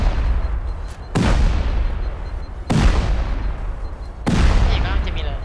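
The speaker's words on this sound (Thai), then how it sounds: "โอเคระเบิดไป" Three heavy explosions from C4 charges in the survival video game Rust, each a sudden loud boom with a long rumbling decay, spaced about 1.5 seconds apart, close and dominant.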